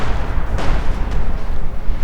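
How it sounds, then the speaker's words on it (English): Continuous rumbling artillery bombardment from the video game Company of Heroes 2, a loud dense roar with a couple of sharper bursts standing out, no pauses throughout. "Your opponent gets artillery and bombs the snot out of you."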